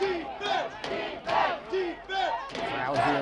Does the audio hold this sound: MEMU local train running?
no